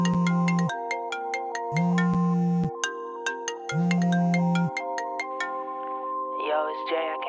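A phone ringtone plays three repeated bursts of a bright melodic tone with brief gaps between them, followed by a voice starting a voicemail greeting.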